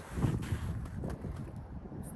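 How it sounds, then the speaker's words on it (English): Wind blowing outdoors on a snowy day, buffeting the microphone in rough gusts with rustling, fairly faint and steady throughout. "So windy."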